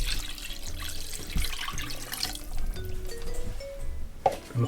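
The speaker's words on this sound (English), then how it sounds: "So we've got our water going in." Tap water pours steadily into a bowl as it is rinsed of chicken casserole marinade. The rush is continuous and fairly close, with a few small clinks near the end.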